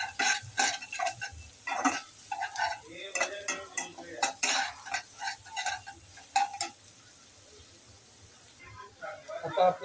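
Carrots stir-frying in a pan for vegetable fried rice, with close, busy clatter of a spatula scraping and tossing in quick irregular strokes over a light sizzle, trailing off near the end.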